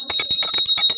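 A bell rings loudly and repeatedly in a quick, steady series of bright strikes with a sustained high ring, heard alone and close during home worship at a household shrine.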